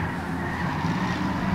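Race cars roar around Rockford Speedway during a Powderpuff feature, engines droning steadily with tire skidding mixed into the loud, continuous track noise.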